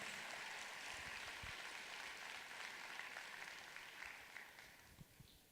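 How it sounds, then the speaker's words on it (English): An audience at a company event applauding, a dense sustained wash of clapping from a crowd throughout, slightly thinning toward the end with a few distinct claps standing out. "So give them a fantastic applause."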